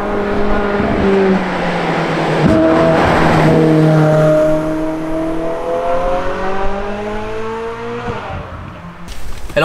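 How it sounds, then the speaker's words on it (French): A Ferrari 458 Spider engine sounding through its triple exhaust, revving up and holding a strong rising and falling tone for several seconds, loud and close with no talk. "les différences de tonalité qu'il y a dans la voiture, qu'il y a avec cette triple sortie d'échappement qui sort juste derrière"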